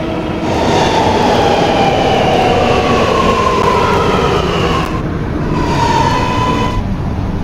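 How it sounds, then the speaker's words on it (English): A Roblox subway game's R211 R local train roars loudly and steadily as it runs, with rising and falling mechanical whine and rumbling wheels throughout. "This is a Myrtle Avenue bound R local train."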